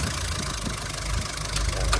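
A Mitsubishi Titan truck engine idles with a steady, low rumble, continuously at close range, with no speech over it.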